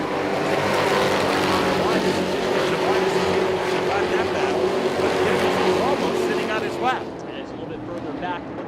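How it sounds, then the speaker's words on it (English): Late model race cars roar around Thompson Speedway in a dense, continuous engine drone with pitch sweeps as cars pass, while a commentator talks over the racing throughout. "he has to hold off Jim Banfield in car number 22"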